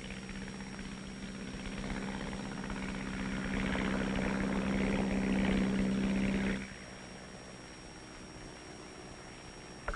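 A propeller-driven artillery fire control plane drones overhead in Korea, its steady engine hum swelling to a peak and then dropping away abruptly, leaving a quieter background.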